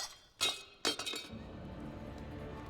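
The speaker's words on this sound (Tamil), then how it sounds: "அந்த தட்டு உடைஞ்சு போச்சா?" A plate breaking in a Chinese martial arts film, a sharp crash followed by a second louder smash and scattering shards, then fading into a low, steady background.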